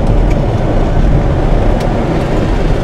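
Tesla-powered electric classic Mini accelerating on a light touch of throttle, heard from inside as a steady low rushing road and wind roar with no engine note, loud and constant throughout.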